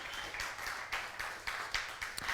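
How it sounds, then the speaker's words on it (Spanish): A church congregation claps together during a Spanish-language service, a steady run of quick hand claps at moderate distance in a reverberant hall, with no talking over it. "denle fuerte palmas al Rey en esta mañana"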